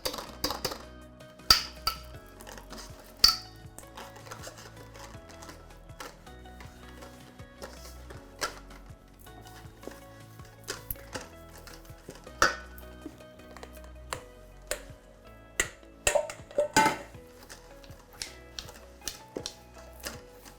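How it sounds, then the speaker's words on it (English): Coconut flour is worked into thick, dry waffle batter with a utensil, irregular clicks and taps against the bowl coming in bursts, close but fairly quiet, with no voices. "Now let's add the coconut flour. And let's try to mix it really well."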